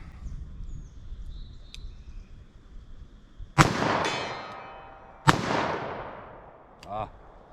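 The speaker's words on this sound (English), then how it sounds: "Got a couple more rounds in my revolver." Two loud revolver gunshots ring out at an outdoor range about 75 yards from the target, each a sharp crack followed by a long decaying echo, with a fainter third report near the end.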